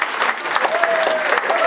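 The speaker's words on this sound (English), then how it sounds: "a big round of applause for the winner" Applause from a concert-hall audience in Västerås for a prize winner at a folk band's show, dense steady clapping filling the room with a faint whistle or tone sliding through it.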